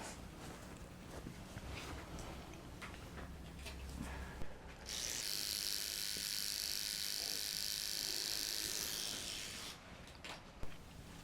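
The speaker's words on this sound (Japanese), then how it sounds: "お耳の毛のカットをさせていただきます。" An electric trimmer buzzes close by as it cuts ear hair during a professional ear cleaning in Japan, a steady high whir lasting about five seconds, with soft rustling and handling sounds before and after.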